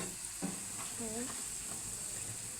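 Vegetables go into a pan of frying fish curry with mixed spice powders, giving a steady close sizzle and stirring scrape, with a brief voice sounding partway through.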